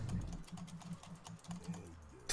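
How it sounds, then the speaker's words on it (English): Fast, ferocious typing on a computer keyboard during a Heroes of the Storm session: quiet, dense rapid clicking taps under faint background noise. "I can hear you ferociously tapping the keyboard."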